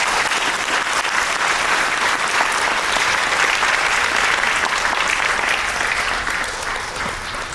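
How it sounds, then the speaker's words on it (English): An audience claps steadily and loudly for several seconds, a full sustained round of applause that tapers slightly at the end. "can you please give our professors another round of applause?"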